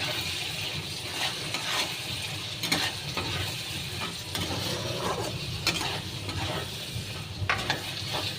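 Curry being stirred in a pan after Sunrise garam masala powder goes in, with steady close frying sizzle and repeated scraping strokes of a spoon against the pan.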